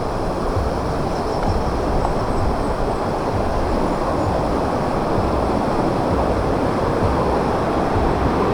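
Continuous rushing water, a dense, steady roar like a swollen river flowing close by, with no talking.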